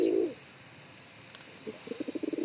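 Domestic pigeons cooing up close, a short low coo at the start, then after a quiet pause a run of quick pulsing coos that builds in loudness toward the end.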